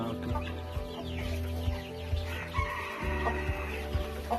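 Native country chickens, including two-month-old hen-hatched chicks, cluck in short, repeated calls close by, with soft scratching and rustling in between and no talking.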